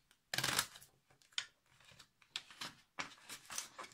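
Tarot cards are shuffled slowly by hand, giving separate bursts of papery riffling and soft slaps at uneven intervals, close and clear with quiet gaps between.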